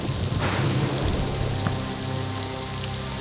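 Steady heavy rain pours down outdoors in a thunderstorm, a dense close hiss of drops hitting surfaces that fills the whole stretch with no break.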